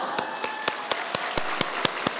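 Rhythmic, evenly spaced claps at a university students' winter retreat, about nine sharp beats over a constant hiss of room noise, moderately distant.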